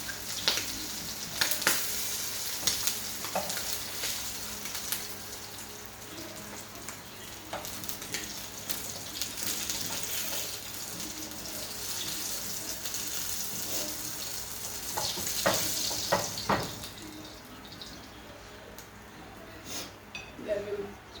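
Sprat fish fry in a pot of hot oil for a Jamaican escoveitch dish, giving a continuous crackling sizzle with sharp pops and spatters throughout, fairly close and moderate in level.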